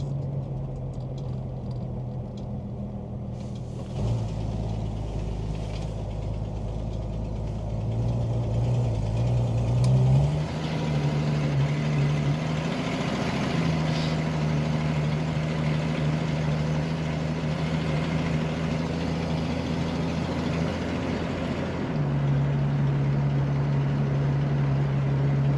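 A 1966 Ford Mustang Coupe engine runs while driving, a steady low droning hum heard from inside the car that shifts pitch as the throttle changes, continuous and moderately loud with no talk.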